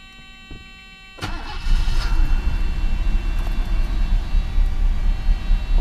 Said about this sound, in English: Now we're going to try to start the engine normal way with fuel pump relay installed